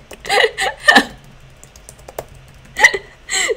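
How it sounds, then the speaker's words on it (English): Someone types on a computer keyboard in a few short, uneven bursts of close, crisp key clicks, with quiet pauses between the flurries. "They wanted two sentences, so I'm typing."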